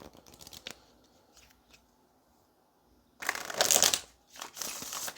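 Tarot cards are riffled and shuffled in a few quick, crisp bursts after some quieter handling noises, close and fairly loud.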